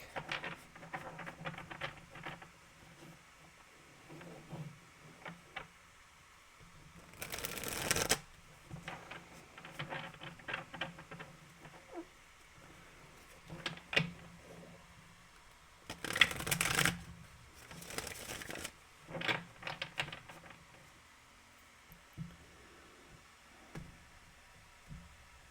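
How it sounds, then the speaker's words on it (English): Two decks of playing cards are riffled and shuffled repeatedly, with several louder bursts of rapid flutter between quieter handling and tapping, close and without talk. "This deck is a very big deck, so we are going to shuffle both decks."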